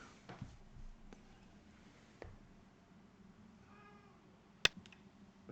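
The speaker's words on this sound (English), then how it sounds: "I apologize for my cat being a little bit whiny." A pet cat meows and whines a few times in a quiet room, soft and somewhat distant, with occasional small clicks and taps in between.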